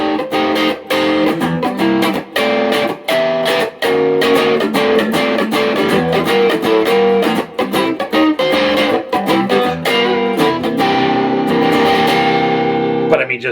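A Gibson Les Paul BFG electric guitar rings out with a heavily distorted, cranked tone, playing loud strummed chords and sustained notes continuously and close up.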